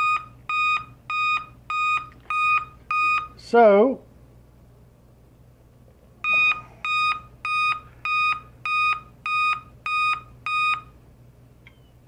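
Repeated loud electronic beeps in regular pulses from a Dell laptop signalling a POST error with no display, a pause broken by a short spoken word, then the same steady beeping resumes.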